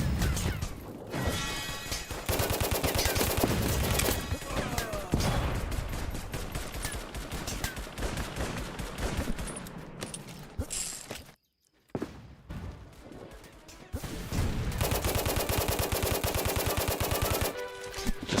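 Heavy, sustained gunfire from a World War II shooter video game, with dense bursts of machine-gun and rifle fire filling most of the stretch, a brief near-silent gap midway, then loud firing resuming.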